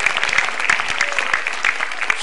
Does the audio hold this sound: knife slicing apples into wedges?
no